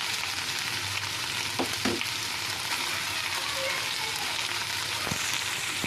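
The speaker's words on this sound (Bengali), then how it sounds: "এর মধ্যে এবার আমি টমেটো কুচিগুলো দিয়ে দেবো।" Chopped tomatoes hiss and sizzle in a hot pan, a dense continuous frying sound, close and fairly loud, with a couple of brief stirring knocks and no talk.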